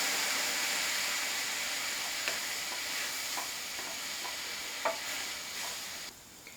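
Vegetables stir-frying in a pan, a steady broad sizzle with a few soft utensil taps, close and even before it abruptly drops off near the end.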